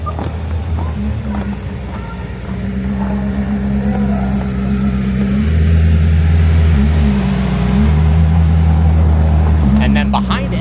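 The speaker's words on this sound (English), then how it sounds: "the Koenigsegg Jesko Sedair Spear coming through" A Koenigsegg Jesko supercar drives through a lineup of supercars, its loud low engine drone rising and swelling as it nears, with revving surges and crowd noise around it.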